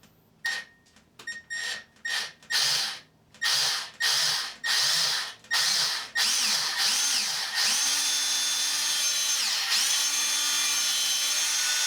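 Electric drill boring into a soft thermalite block with no hammer action, running in several short bursts and then a longer sustained whine, close and loud with no talk.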